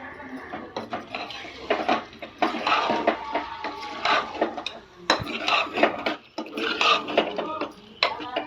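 Washed mint leaves are stirred into oil in a pan for a chicken gravy curry, making repeated scraping and clinking of a utensil against the pan, with speech over parts of it.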